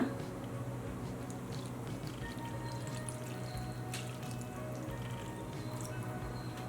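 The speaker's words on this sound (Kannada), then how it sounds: "ಈಗ ಈ ನೀರು ಸೇರಿಸ್ಕೊಳ್ಳೋಣ" A steady, quiet splash of cooled, boiled salt water being poured into mango pickle in a container, with a few soft drips over a low background hum.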